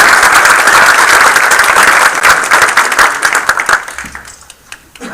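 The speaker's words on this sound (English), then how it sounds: "Let's clap." Loud, close applause fills a council meeting hall as an award recipient comes forward, dense clapping for about four seconds that thins into scattered claps and fades.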